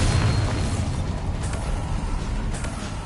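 Explosions from the Confringo and Bombarda spells in the Hogwarts Legacy video game, a heavy rumbling blast with low booming weight and lingering debris noise, loud and continuous across the moment.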